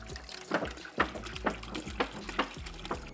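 Distilled water poured into a bucket, a steady splashing stream with rhythmic surges roughly every half second, close and fairly loud with no talking.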